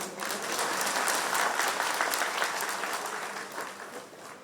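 An audience applauding at a public gathering, dense steady clapping from many hands that swells and then slowly thins out, heard alone without talk.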